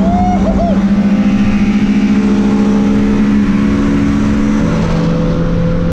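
A 2005 phase 2 Honda Civic EP3 with a small intake modification revs loudly and steadily up close, its engine note holding a strong, continuous drone throughout.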